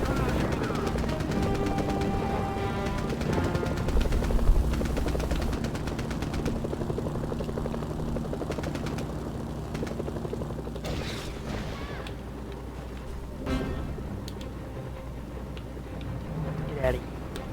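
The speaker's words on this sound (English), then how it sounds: "Now we just have a nice leisurely flight over downtown Pyongyang." Helicopter in the Mercenaries video game flying over downtown Pyongyang, a steady rotor drone with mechanical clatter and occasional bursts like gunfire, moderately loud throughout.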